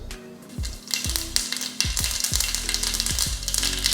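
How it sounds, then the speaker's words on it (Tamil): Mustard seeds and urad dal sizzling and popping in about two spoons of hot oil for a chutney tempering, a loud close crackle with sharp, repeated pops over a steady frying hiss. "கடுகு பொரிஞ்சதுமே கருவேப்பிலை."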